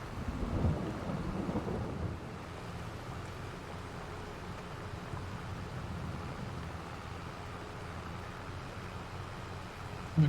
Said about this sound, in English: with any luck in the next few minutes the rain will stop completely